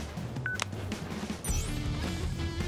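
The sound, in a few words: flip phone beeping in video game Crisis Core Reunion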